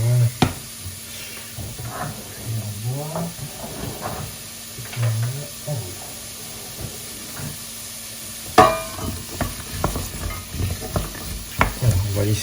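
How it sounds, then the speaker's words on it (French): Small onions browning in a frying pan, with a soft sizzle and repeated scraping and stirring strokes close by, some louder knocks of the utensil against the pan. "Voilà, c'est parti pour les petits oignons à colorer. Ça dure moins de 5 minutes en général. Et il faut bien les remuer."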